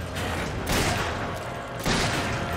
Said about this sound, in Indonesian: gue tembak pakai magnum